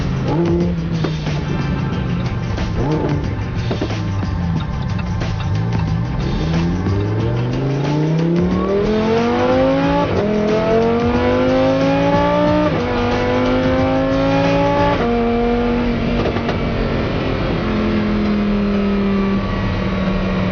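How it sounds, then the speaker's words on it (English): A car engine revs up and down, pitch climbing through the gears, loud and close, with tires faintly squealing. "I love how this car sounds."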